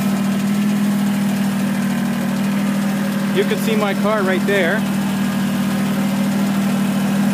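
A Kubota BX2380 sub-compact tractor engine, a 2019 model, idles with a loud, steady, low hum throughout while a person speaks briefly over it.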